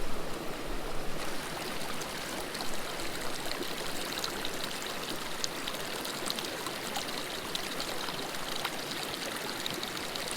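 A small mountain brook trout stream flows steadily, a dense, even rushing and babbling of water close by with no voices.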